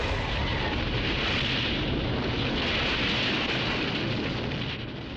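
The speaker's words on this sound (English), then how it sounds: "Explosions." A dense, continuous roar of video game explosions and rumbling debris fills the whole stretch loudly, easing slightly at the very end.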